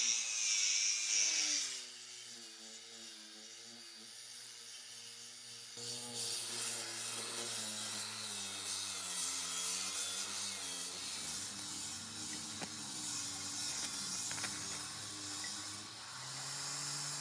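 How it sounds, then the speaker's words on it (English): Wood is sawn for soap molds, heard faintly as a continuous rasping, rubbing stroke sound that goes on steadily for over fifteen seconds in a quiet setting. "my husband is sawing wood for soap molds"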